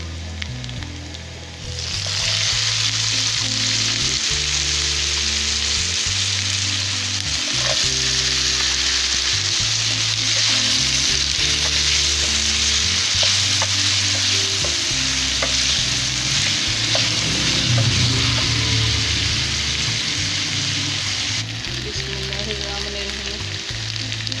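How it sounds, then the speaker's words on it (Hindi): Potatoes fry in a pan with garlic and ginger, a loud, steady sizzle lasting throughout with occasional stirring scrapes and no talking. "हुण मैं आलू पैंदी पई हाँ।"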